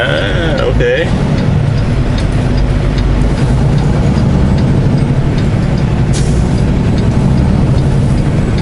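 A tractor engine runs continuously, a loud, close, steady low rumble with a constant mechanical drone that holds throughout without pauses.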